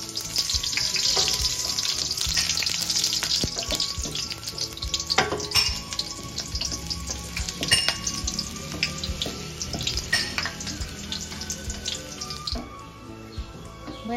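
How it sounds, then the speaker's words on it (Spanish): Onion fries in hot oil in a clay pot with a loud, continuous crackling sizzle and scattered sharp pops, close up with no voices. "Ya está caliente, le vamos a quemar cebolla."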